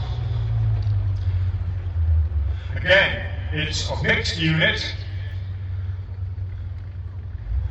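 WWII armoured vehicles, including an SdKfz 222 light armoured car, rumble past at a battle re-enactment with a deep, steady engine drone throughout. A commentator talks over it in the middle.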